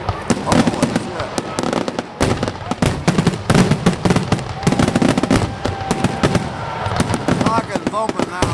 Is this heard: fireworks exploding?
yes